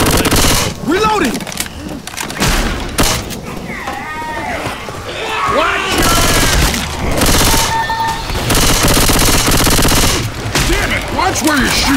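Rapid automatic gunfire and bursts of shots in the zombie shooter game Left 4 Dead 2, loud and repeated throughout, mixed with characters' shouted callouts and talk.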